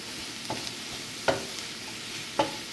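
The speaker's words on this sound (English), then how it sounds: "And just let that saute for a little while." Ground chicken and Hatch chile sauté in a small pot with a soft, steady sizzle, broken by three brief scraping stirs spread across the clip.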